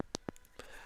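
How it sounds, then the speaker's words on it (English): Buttons on a clicky iPhone 16 Pro case are pressed near a microphone, giving three or four crisp, faint clicks in quick succession, each sharp and brief with short gaps between. "So yeah, nice and clicky buttons,"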